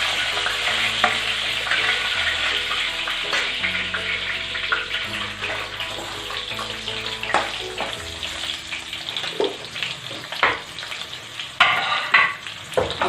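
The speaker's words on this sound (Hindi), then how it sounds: "अब इसी में हम मूली को भी तल देंगे।" Radish pieces fry in hot oil left over from frying fish, a loud, steady sizzle with intermittent scraping and stirring clatter from the pan throughout.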